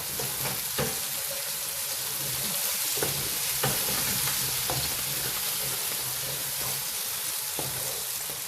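Chopped tomatoes go into a pan of frying stuffed karela filling (keema), giving a loud, continuous close sizzle with occasional scrapes and clinks of stirring, no voices over it.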